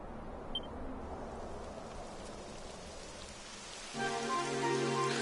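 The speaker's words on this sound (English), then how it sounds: "Typical. It would have to go and start raining, wouldn't it?" Steady rain in the video game Dragon Quest XI patters and hisses on surfaces throughout, joined near the end by a sustained tonal hum layered over the downpour.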